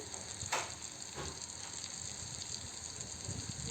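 Finely chopped capsicum sautéing in a pan for paniyaram, a steady soft sizzle running throughout with a brief clatter near the start, no talking.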